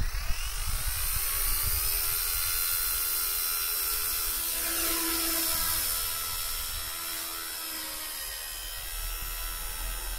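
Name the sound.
K124 RC helicopter motor starting for takeoff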